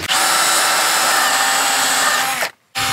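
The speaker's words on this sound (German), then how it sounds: "Du wolltest auch noch ein Loch neu bohren." A power drill whines loudly and steadily for over two seconds while boring a hole, stops briefly, then starts up again.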